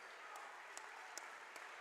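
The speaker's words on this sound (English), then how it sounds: "he gets a big round of applause from the Salem Tech fans" Salem Tech fans applaud at a high school basketball game, a faint, steady patter of clapping from a distance with a few sharper claps standing out.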